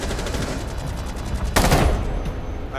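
Rapid automatic gunfire from Rainbow Six Siege rattles in a fast, even stream, then a louder, closer blast of shots hits near the end, with no talking over it.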